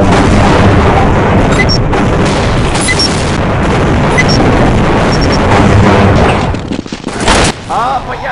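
Rapid grenade blasts and booming explosions fill a Team Fortress Classic match, a dense loud barrage of bursts and pops that continues steadily before thinning out near the end.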